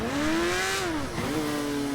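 Engine revving of a scooter ridden in the GTA V game, a steady mid-pitched drone whose pitch climbs, dips briefly, then rises again, loud and continuous with no talking.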